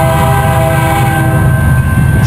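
A freight train rumbles loudly and continuously close by with a sustained horn tone above it, heading eastbound through Cajon Pass from Los Angeles toward North Platte, Nebraska.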